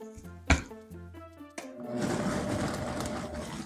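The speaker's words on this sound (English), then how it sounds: "I'm just going to place all of this in my blender. And I'm going to blend it until there are no more date chunks left." After a couple of clunks as the lid and jar settle, a kitchen blender whirs up to a steady, dense grinding roar as it purees dates with almond milk.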